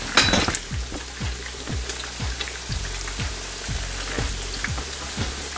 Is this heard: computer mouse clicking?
no